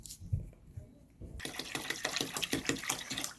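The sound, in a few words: pouring cheap store-brand applesauce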